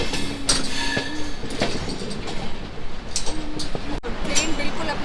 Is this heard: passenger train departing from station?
yes